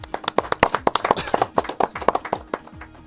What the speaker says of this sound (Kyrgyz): Командага бир кол чаап койгонда